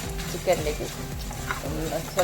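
Whole spices for a mandi masala dry-roasting in a pan, giving a soft sizzle with repeated scraping and stirring strokes, fairly close and steady, with no talk.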